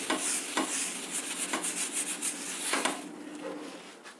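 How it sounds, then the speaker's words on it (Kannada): Tissue paper rubs oil across a hot dosa tawa in close, dry strokes, several quick swipes in an uneven rhythm, then the scraping fades away. "ಮೊದಲು ಸ್ವಲ್ಪ ಎಣ್ಣೆ ಹಾಕ್ತೀನಿ ತವ ಮೇಲೆ ಟಿಶ್ಯೂ ಪೇಪರಲ್ಲಿ ಚೆನ್ನಾಗಿ ಸ್ಪ್ರೆಡ್ ಮಾಡ್ತೀನಿ"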